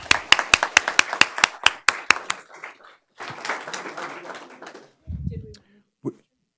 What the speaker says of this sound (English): Big round of applause again, huh?